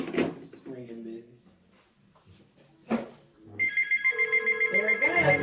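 A telephone rings through a handset in a regular repeating electronic pattern that starts partway through, after a few spoken words and a clunk.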